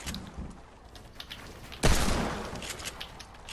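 Desert Eagle pistol gunfire in Fortnite: a sharp, loud shot bursts out partway through and rings off, following softer distant pops of battle in the background.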